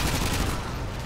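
A brief, loud burst of gunfire in Call of Duty: Modern Warfare 2, a dense wash of shots crackling close by with no talk.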